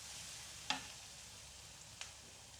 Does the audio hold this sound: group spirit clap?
no